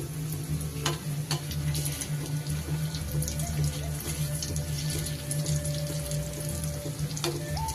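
Chicken pakoda pieces frying slowly in oil in a kadai over low heat, giving a steady, close sizzle that runs the whole time with a few light clinks.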